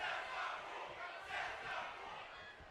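Crowd in a WWE 2K wrestling video game reacting with a broad, rolling roar that swells twice and then eases, heard at a fair distance and fairly faint, with no talking over it.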